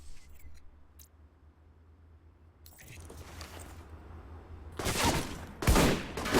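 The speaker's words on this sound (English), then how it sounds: "we're just going to take a shotgun to that guy's face" Shotgun blasts in the spy shooter Alpha Protocol, two loud broadband bursts arriving late after a quiet stretch of low game ambience.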